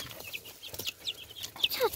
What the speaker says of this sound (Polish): przybiegł nasz kogut